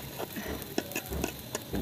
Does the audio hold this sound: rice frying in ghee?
yes